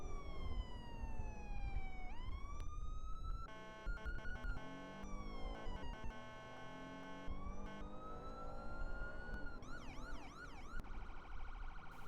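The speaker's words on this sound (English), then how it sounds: "These are based off of the actual NYSP sirens." Custom police sirens modeled on New York State Police units sound in a video game, loud and continuous, cycling from a rising wail to rapid yelps and then warbling hi-lo sweeps, with no talking over them.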